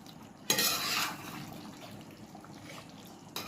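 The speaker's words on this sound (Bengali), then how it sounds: "ঢাকাটা খুলে এবার নেড়ে চেড়ে গরম মশলার গুঁড়া দিয়ে দেব" Chicken curry being stirred in a pot after garam masala goes in, heard as a brief close burst of scraping and sizzling noise followed by a quieter stirring hiss, faint overall and without speech.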